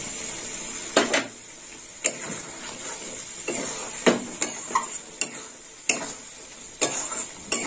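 Prawns with spices stir-fry in a pan, with a steady sizzle and repeated sharp scrapes and clinks of a spatula against the pan at irregular intervals.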